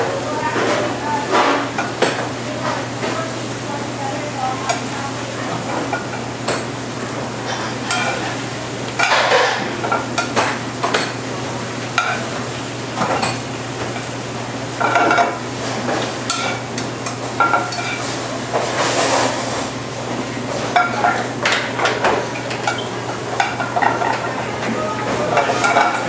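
Baby spinach sizzles in a pan and is stirred, producing a low frying hiss with intermittent scraping and clinks of utensil against cookware, while people talk over it in a kitchen.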